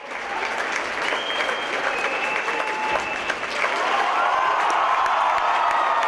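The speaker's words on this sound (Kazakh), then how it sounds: "Залға жиналған жұртшылық би аяқталғанша қошемет көрсетіп отырды" Sustained audience applause fills an opera theatre after a dance performance, dense steady clapping with some cheering mixed in, loud and continuous throughout.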